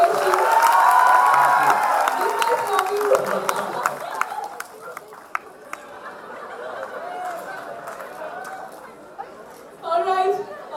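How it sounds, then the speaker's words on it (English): A studio audience cheers, claps and chatters loudly for a film's star cast, the crowd noise strong at first then thinning into scattered claps and murmurs, with a short burst of voices near the end. "a huge round of applause for this kind of dedication"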